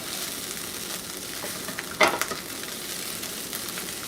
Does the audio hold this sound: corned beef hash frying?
yes